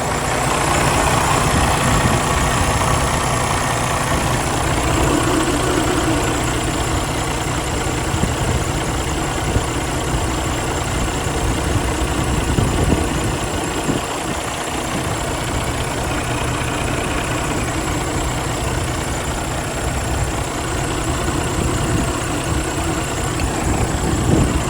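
A 2020 Freightliner Cascadia heavy-spec truck with a Detroit DD15 diesel, 505 hp, idles steadily and close up, a continuous low rumble with a mechanical hum and no talking.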